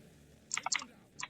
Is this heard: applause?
no